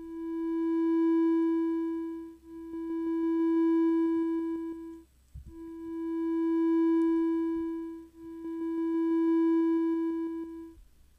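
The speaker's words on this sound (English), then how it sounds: "what I get is a very smooth sweep effect." PICO-8 chiptune notes with a volume slide effect, four sustained square-ish tones each swelling up and fading smoothly away, evenly spaced, with a short click between the second and third, alone and clear.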